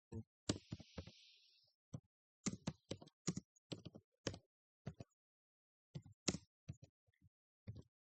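Typing code on a computer keyboard, sharp close key clicks in quick irregular bursts separated by short pauses, quiet between strokes, with no talk.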